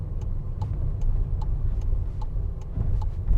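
A car on a driving exam route makes a steady low engine rumble close by, with regular faint ticking from a turn indicator and a slight swell in engine noise near the end, without any talk.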